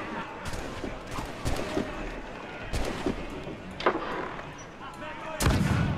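Ship cannons fire in Assassin's Creed 4 Black Flag, with several heavy booming blasts at irregular intervals. The blasts are loud and close over a busy naval-battle background.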